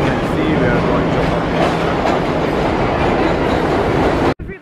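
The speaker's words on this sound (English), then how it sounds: "I think our train is coming." A New York City subway train pulls into a station, a loud, steady rumble with rattling wheels that runs for several seconds before cutting off abruptly, with faint voices beneath it.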